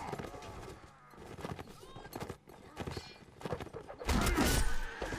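Horse hooves clip-clop in a Mount and Blade Warband line battle, a quiet rhythmic trotting mixed with game noise and talk, ending in a louder burst of clatter.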